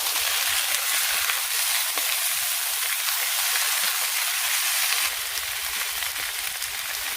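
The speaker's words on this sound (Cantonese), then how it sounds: "都係煎到微黃呢，然後就加埋啲冬菇同埋紅棗" Garlic, ginger, mushrooms and red dates fry in a pan with a steady hiss and soft sizzle, fairly loud and even, with the tone shifting slightly partway through as the pan is stirred.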